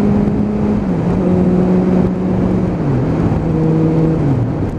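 Suzuki Bandit 600 motorcycle with a carburettor issue pulling hard at full throttle on a dual carriageway, a loud continuous engine drone whose pitch climbs, then drops at each gear change, close and alone.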